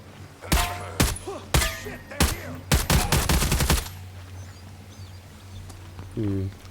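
Single gunshots and quick bursts of fire in Ghost Recon Breakpoint, a dozen or so sharp reports clustered over three seconds, then quiet, with a brief voice near the end.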